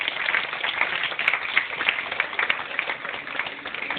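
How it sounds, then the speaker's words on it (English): A crowd claps for a retired government official who reviewed the WAEC curriculum in West Africa, the applause steady, dense and moderately loud with no pauses across the clip. "Can you applaud him, please?"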